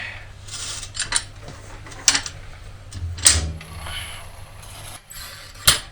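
A bead-breaking machine works on a tubeless motorcycle tire, giving a series of close metallic clanks, ratcheting clicks and squeaks in uneven bursts, with a brief low groan as pressure is applied.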